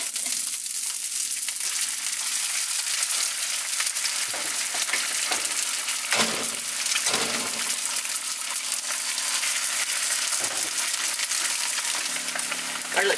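Food sizzles and pops in a frying pan at an off-grid cabin, a steady bright hiss with scattered crackles and bursts of popping, close by, with no talk.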